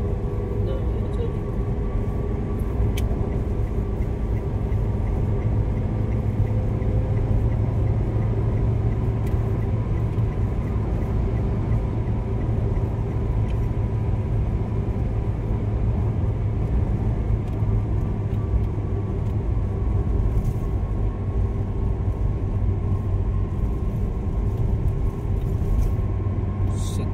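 Interior of a car travelling at about 100 km/h along the Japek II Selatan toll road, a steady low road and engine rumble with constant tyre roar throughout, close and unbroken.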